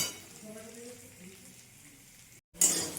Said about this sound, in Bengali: এটা একটু ভেজে নেব।